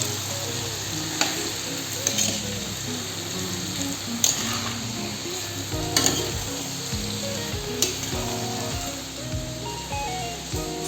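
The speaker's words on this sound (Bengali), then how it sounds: "এখন কিছু সময় খুব ভালো করে নেড়ে চেড়ে কাঁঠালগুলোকে দিতে হবে।" Jackfruit curry fries and bubbles in a pan with a continuous sizzle, while periodic spatula stirs and clinks come at a steady pace throughout.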